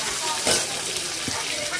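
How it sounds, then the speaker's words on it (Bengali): Spices for tempering, such as dried red chillies and bay leaves, frying in hot oil in a kadai while cabbage curry is cooked, a close, steady crackling sizzle with a brief louder burst. "কড়াইয়ে তেল দিয়ে যদি কেউ এই সময় কোনো ফোড়ন দিতে চাও, শুকনো লঙ্কা তেজপাতা দিতে পারো।"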